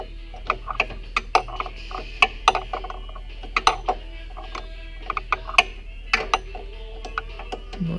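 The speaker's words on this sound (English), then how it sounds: "Unscrewing this." A wrench works loose the power steering high pressure line fitting on a 2001 Jeep Wrangler, a rapid irregular series of close metallic ratchet clicks and taps over a low steady hum.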